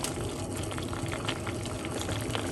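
Parsley and lemon tea simmering in a pot, giving a steady close bubbling and gurgling boil with no pauses across the whole short stretch.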